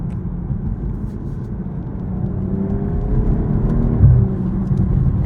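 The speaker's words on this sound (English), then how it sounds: "Let's test out these paddle shifters here. So let's go ahead and flip it over. And then let's go downshift a couple times." A 2023 BMW M440i Gran Coupe RWD engine heard from inside the cabin, a steady close rumble and whir that rises in pitch, with a brief jolt near the end as a paddle-shifter downshift blips the revs.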